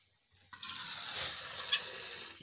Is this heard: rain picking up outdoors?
no